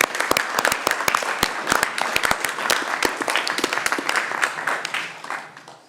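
Clapping at a Sunshine Coast Council ordinary meeting in a chamber: a modest group applauding, with distinct sharp individual claps in an uneven rhythm, steady for several seconds and then fading out.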